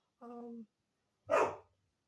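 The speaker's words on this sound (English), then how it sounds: "I'm sorry for the barking." Two dog barks about a second apart: a short tonal yelp, then a louder, rougher bark, both close and clear against silence.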